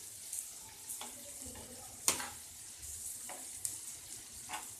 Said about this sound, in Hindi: तो कम से कम आपने 5-7 मिनट के लिए फ्राई करना है।